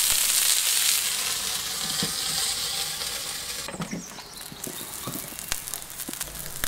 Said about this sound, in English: a brushing with light oil, and it's onto the griddle